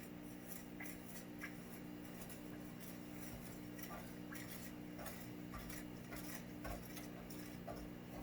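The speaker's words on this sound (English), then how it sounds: "Now I use a stirring rod, and you'll notice the caramelization will start almost immediately." A stirring rod works through sugar caramelizing in a pan, giving light, scattered clinks and scrapes over a steady low hum, close and fairly quiet.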